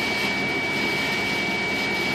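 A Mitsubishi VR4 engine idling at normal operating temperature around 800 RPM, producing a steady loud whooshing drone with a constant high whine, close and unbroken, with no talking.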